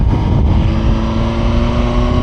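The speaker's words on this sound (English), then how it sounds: "They like to see the bike come by." A 2023 Suzuki GSX-R 1000 motorcycle passes near a school playground, its engine droning steadily and loudly with a low rumble throughout and no clear rise or fade.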